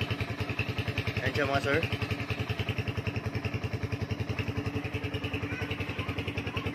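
A Kawasaki Z200X motorcycle engine idles steadily after its battery has been revived, with a close, rapid, even mechanical pulse throughout and someone briefly speaking over it.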